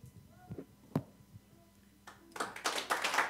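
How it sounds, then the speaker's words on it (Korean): Church congregation at an elder ordination ceremony breaking into applause after scattered taps and thumps, the clapping swelling to a steady, moderately loud round in the final second. "다시 한번 박수해 주시고"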